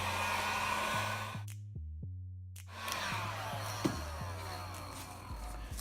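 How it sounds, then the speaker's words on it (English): Heat gun blowing hot air over a foam sheet, a steady loud whooshing roar that cuts out briefly and restarts, with a low droning hum under the airflow. "grab your heat gun. You're going to heat this up on both sides"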